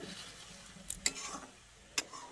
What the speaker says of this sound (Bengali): দেওয়ার পরে আমি আবারও বেশ একটু এইভাবে নেড়ে দেবো।